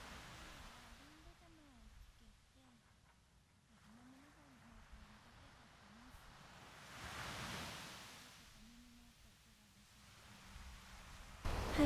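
Ocean surf picked up by a microphone fitted with a windjammer, with broad, soft swells of washing waves rising and falling over a steady hiss while a low voice murmurs faintly underneath.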